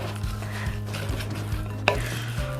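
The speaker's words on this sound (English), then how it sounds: "We have everything in here ready for us to mix everything together" Garlic and lemongrass are worked into sausage meat in a bowl, giving a steady soft squelching and stirring over a low hum, with one brief sharper knock near the end.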